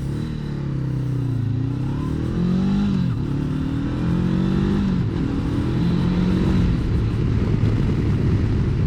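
A 2021 Honda CB500X motorcycle engine revs up and down several times. The pitch rises and falls in repeated sweeps over a constant, close, rumbling exhaust note.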